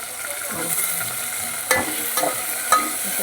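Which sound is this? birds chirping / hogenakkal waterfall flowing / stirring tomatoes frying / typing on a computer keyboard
stirring tomatoes frying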